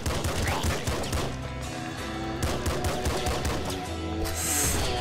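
Rapid pistol gunfire from the top-down shooter Nuclear Throne crackles in dense, repeated bursts throughout, sharp and close, with a voice briefly talking over it.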